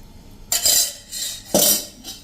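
A spoon stirs gram flour and buttermilk batter in a pot as water goes in, two bright scraping, splashy strokes a second apart over a quiet background.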